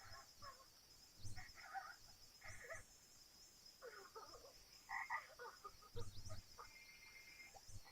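Croaking from a cartoon frog with an ear on its head in a Ren & Stimpy episode, a few short rough calls spaced irregularly over a steady high-pitched background hum.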